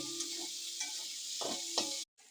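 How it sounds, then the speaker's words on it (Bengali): Potato and cabbage being stirred in a pan while they fry: a steady soft sizzle with a few scraping stirs, ending with a brief cutoff. "বাঁধাকপিটা ভালোভাবে হালকা করে নেড়ে নেবো।"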